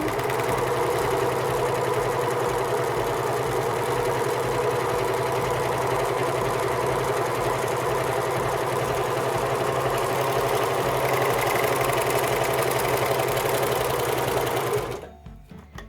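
A serger sewing machine stitches a rolled hem, a loud, close, steady mechanical hum with rapid rhythmic needle chatter that runs continuously before stopping abruptly near the end.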